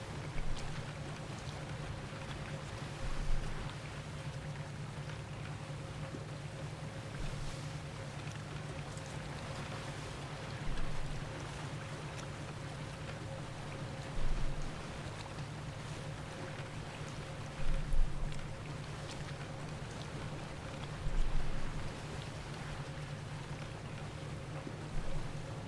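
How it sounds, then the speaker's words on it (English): A boat idles in the video game The Witness, giving off a faint, steady low hum with a constant tonal drone, and small soft bumps break the texture every few seconds. "Is that the sound of the boat idling?"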